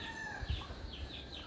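Chickens on a farm cluck faintly at a distance, with a brief soft burst near the middle against a quiet outdoor background.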